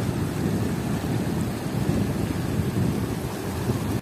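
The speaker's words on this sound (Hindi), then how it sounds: "बारिश अभी भी हल्की हल्की स्टार्ट है" Light rain patters steadily in a mountain village in the Upper Neelum valley, a dense, even hiss with low rumbling undertones, continuous and fairly close, without voices.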